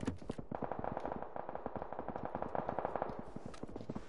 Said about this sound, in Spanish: ¿Oyes esos tiros?